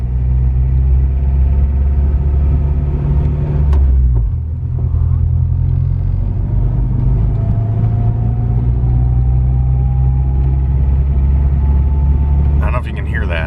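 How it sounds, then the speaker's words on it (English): A Honda Civic's engine hums and rumbles steadily from inside the cabin while driving, with a rising tone as it revs, and voices occasionally talk over it. "let's turn the defrost off here just so we can listen to the motor"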